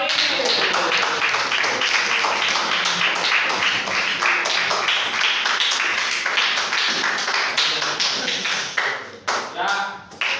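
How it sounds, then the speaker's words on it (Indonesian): Classroom students in a school debate clapping loudly for the other group, dense rapid applause that tapers into a few scattered claps at the end, with some voices mixed in. "Beri tepuk tangan meriah untuk kelompok lain"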